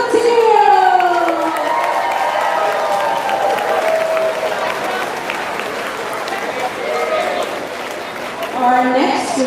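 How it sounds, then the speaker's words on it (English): A live audience at a community performance event applauds and cheers, with voices shouting over steady clapping. The sound is loud and continuous throughout and swells again near the end. "Let's give another round of applause"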